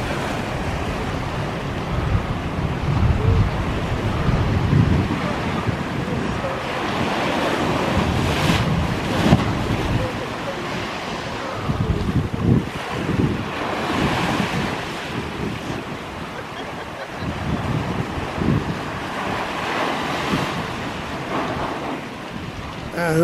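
Stormy sea surf pounds against the harbour walls at Watchet, a continuous roar of crashing waves and spray with heavy wind buffeting the microphone, loud and unbroken throughout.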